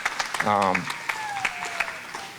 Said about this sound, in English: You can clap for these folks here and all of the members of the RGA that are present tonight